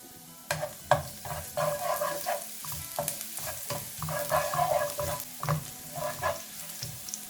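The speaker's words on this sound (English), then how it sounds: "Take a little bit of oil, around 3 tablespoons. Just add minced garlic in it." Three cloves of minced garlic frying in about three tablespoons of oil, with a brisk crackling sizzle broken by repeated rhythmic stirring scrapes of a utensil in the pan, close and clear with no voices.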